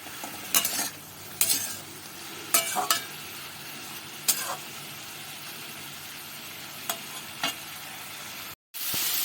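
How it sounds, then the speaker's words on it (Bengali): Potato and eggplant pieces with salt and turmeric sizzle steadily in a pan nearby, broken by several sharp scraping stirs of a spatula. "এগুলো দিয়ে আলু বেগুনটা বেশ ভালো করে ভাজা ভাজা করে নেব।"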